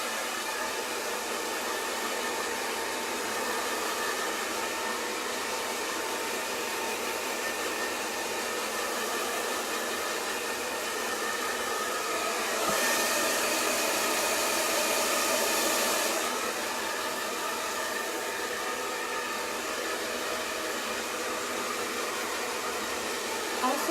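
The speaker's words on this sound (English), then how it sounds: "because I'm gonna blow dry my hair at the roots" Hair dryer blowing steadily at the roots of the hair for volume, a continuous close whooshing roar that swells briefly louder partway through as the airflow shifts.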